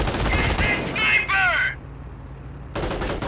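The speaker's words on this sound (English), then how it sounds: "they add additional firepower to the half-track's own machine gun" A half-track's mounted machine gun in Company of Heroes rattles off steady automatic fire amid battle noise, with voices and tonal effects layered over it, before cutting off and resuming briefly.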